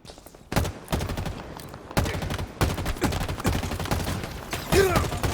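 Gunfire in the video game Halo Infinite, played on ultra settings in a training mode, with loud bursts of automatic fire and repeated volleys that start after a brief lull and carry on almost without a break, close and dense.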